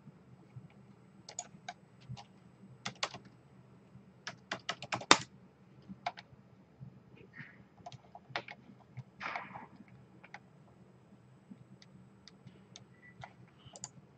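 Keystrokes on a computer keyboard entering an ID into a tax filing website form, a quiet sequence of irregular clicks in short bursts with pauses, close and alone with no talking.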